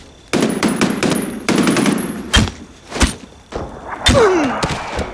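Gunfire in the video game Medal of Honor Warfighter: several loud bursts and single shots ring out close by, separated by short gaps, with a brief whistling tone near the end.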